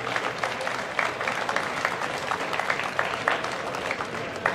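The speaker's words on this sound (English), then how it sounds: "Let's give them a nice round of applause." A moderate crowd at a church kickoff event gives a round of applause, steady and sustained with no voices over it.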